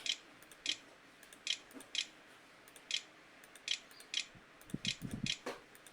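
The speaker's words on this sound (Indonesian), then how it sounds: "Kita masukkan password menggunakan keyboard internal." Password being typed on the built-in keyboard of an Acer E5-476G laptop: a quiet, irregular run of light key clicks with short gaps, ending in a brief cluster of taps.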